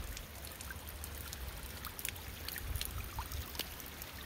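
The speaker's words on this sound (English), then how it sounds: "all this water is actually what's seeping out from the wall" Water seeping and trickling out through a rock retaining wall under heavy pressure, a steady broadband wash with faint scattered drips, fairly close and continuous, no voices.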